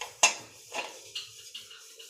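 A lid set down on a cooking pot of chimbal (colostrum milk pudding): one sharp metallic clank, then a few lighter rattles and ticks as it settles, close and alone.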